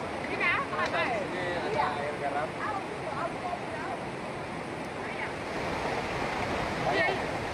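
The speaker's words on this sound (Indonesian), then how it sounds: "Jadi ada air laut di sini" Sea waves wash steadily onto the shore at Batu Daras, a continuous broadband surf roar with some wind, while several people talk nearby throughout.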